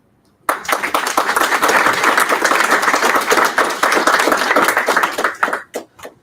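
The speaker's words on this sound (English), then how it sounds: "I would like you to give a round of applause for Dr. Jack Reid" A round of applause for Dr. Jack Reid at the ICASAT 2023 conference breaks out suddenly from silence, loud and sustained by a sizable audience, then thins to a few scattered claps before fading.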